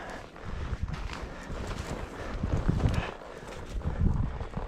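A donkey's hooves walk over ground in soft, uneven thuds, close and fairly quiet, with light wind noise behind them.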